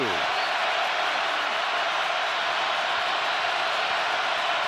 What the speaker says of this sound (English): Crowd already at full throat.